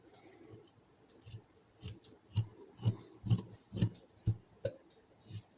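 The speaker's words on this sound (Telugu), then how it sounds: "ఇప్పుడు ఒక స్ట్రైట్గా ఉండే విధంగా కట్ చేసుకుంటున్నాను." Scissors cut blouse fabric in a straight line, making about a dozen crisp, close snips in a steady rhythm that grow louder and sharper midway.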